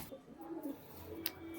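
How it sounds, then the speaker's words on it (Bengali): A female Kaldum Giribaz pigeon held in the hand gives soft, close cooing notes, with a brief flap of wings near the end. "এই যে এটা মাদা পায়রা"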